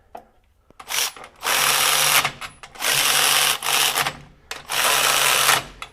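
A Milwaukee M12 FUEL brushless cordless ratchet runs in three loud, steady high-speed whirring bursts of about a second each, separated by short pauses with faint clicks and handling noise.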